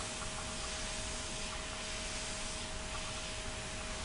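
A spray gun sprays water in a steady, loud, continuous hiss, close up and unbroken for the whole stretch, with a thin steady tone beneath and no talking.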